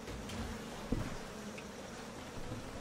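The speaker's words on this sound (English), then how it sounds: "why are you putting bees in here?" Insects buzz faintly and steadily in the background of a Fortnite video game match, a low continuous drone of bees with one soft bump partway through.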